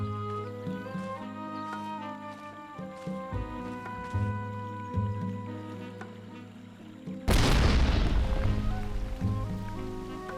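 A loud explosion bursts out in the Voodoo Detective video game, a sudden broadband blast cutting across tonal game music and then rumbling on as a noisy wash to the end.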